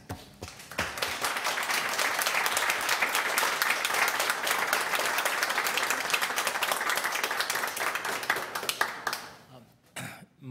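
Sustained applause from an audience at a Board of Health meeting, with many hands clapping steadily for about nine seconds before thinning out and stopping, plus a few coughs.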